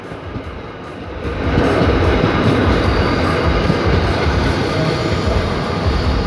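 A Bangkok Red Line electric commuter train pulls away from Bang Bamru station, its rumble swelling after a quieter start into a loud, continuous roar of wheels on rails with light clatter.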